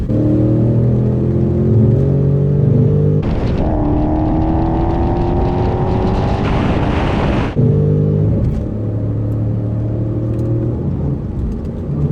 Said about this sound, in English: especially with the exhaust noise